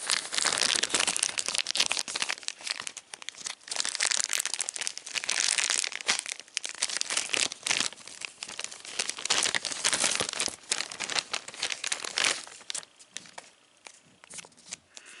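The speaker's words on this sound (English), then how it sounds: "The scissors to cut this tape, not the tape." Scissors snip and slice through packing tape while a parcel of models is unboxed, a dense run of close crinkling, tearing and crackling plastic noises that ease off near the end, with no talking.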